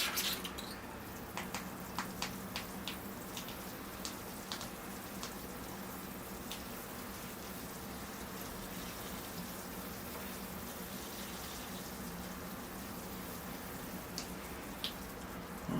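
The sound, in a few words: watering a potted guava bonsai tree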